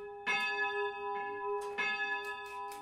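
Restored church bell of the collegiate church of Romont ringing, rich ringing tolls struck several times in sequence, each leaving a sustained humming tone that decays between strikes, heard clearly without talk.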